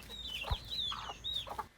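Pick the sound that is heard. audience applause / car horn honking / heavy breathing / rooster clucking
rooster clucking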